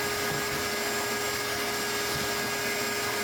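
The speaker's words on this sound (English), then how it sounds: "So vacuum real well." A vacuum cleaner runs steadily during drywall repair on water-damaged, moldy drywall, sucking up dust with a continuous loud whining roar that holds level from start to finish, with no voices over it.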